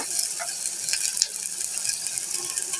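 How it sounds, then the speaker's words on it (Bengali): Spices with ginger-garlic paste and turmeric fry in a pan, a steady bright hissing sizzle with light stirring scrapes and clicks, close and fairly loud. "এখন আমি মশলাটাকে ভালো করে কষিয়ে নিব।"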